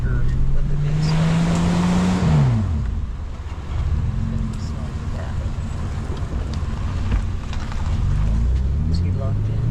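A Ford F150 pickup climbs a wet rock cliff, its engine revving hard and then dropping away before building again, with wind buffeting the microphone and people talking over it.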